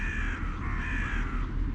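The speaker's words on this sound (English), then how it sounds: "We have our crows." Crows caw loudly and nearby outdoors, a few drawn-out harsh calls over steady background noise.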